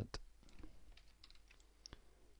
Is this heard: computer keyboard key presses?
yes